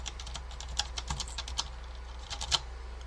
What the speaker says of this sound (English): The black leaves thankfully aren't that clicky, but they are a little bit in some of them.